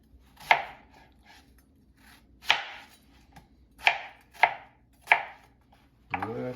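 Onions chopped on a board with a knife for cauliflower spaghetti, five or six sharp separate cuts spaced unevenly with quiet gaps between, close and clear, ending in a short rustle.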